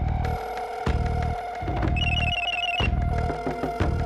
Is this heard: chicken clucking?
no